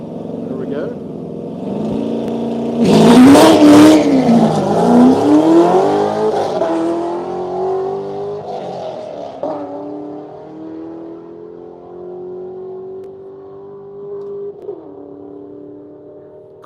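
A Corvette and a Toyota Supra launch side by side in a drag race at Quaker City dragway, engines roaring loudly as they rev up and pull away, then fading into a steady drone, with an announcer talking over it.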